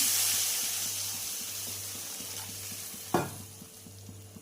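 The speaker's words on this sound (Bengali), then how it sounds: "ঝোলটা হচ্ছে ফুটে উঠছে" Fish curry with potato and eggplant simmering in a pan, a steady soft bubbling hiss with a faint low hum, and one brief sharp clatter near the end.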